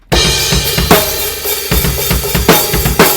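A drum kit plays a full groove at full speed for a song: dense, loud kick and snare hits with crashing cymbals, close and driving, and no voices.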